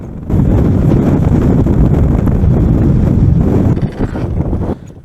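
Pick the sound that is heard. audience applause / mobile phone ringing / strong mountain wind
strong mountain wind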